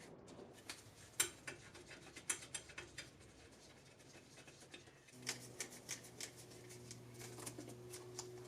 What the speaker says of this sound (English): I'm going to put the bottom bolt in first.